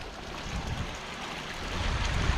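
Water rushing steadily in a small stream running down from the mountains in Norway, a continuous broadband wash with no pauses, heard close by with no talking.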